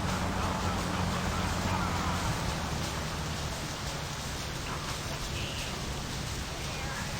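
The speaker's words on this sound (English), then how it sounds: "Oh no, don't start raining." Steady broadband hiss of rain in the game My Summer Car, falling continuously at moderate loudness, with a low droning hum underneath throughout.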